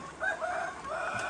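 A chicken crows outdoors on a rural property, one drawn-out wavering call at moderate distance over faint background ambience.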